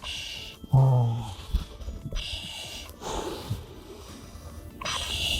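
Heavy, hissing breaths drawn through a firefighter's breathing apparatus mask, a rasping inhale and exhale repeating close up, with a low snorting rumble.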